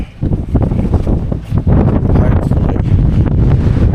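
Strong wind roars steadily across the microphone on an exposed mountain ridge near Snowdon, a loud continuous buffeting with no pauses, gusting slightly stronger in the second half.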